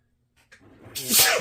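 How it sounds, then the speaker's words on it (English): A single loud, close sneeze with a short sharp intake of breath before the explosive burst. "so you get to hear me sneeze"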